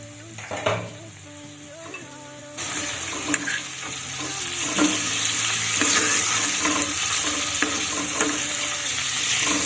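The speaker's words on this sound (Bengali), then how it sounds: "সবজিগুলোকে ভেজে নিতে হবে তাহলে সবজিগুলো ভাজাও হয়ে যাবে" Vegetables fry in a pan, first as a quieter sizzle with a few clinks. Louder hissing and crackling follow as the lid comes off, with repeated scraping of a spatula stirring the pieces, all close-up.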